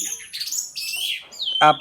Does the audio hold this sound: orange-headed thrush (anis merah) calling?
yes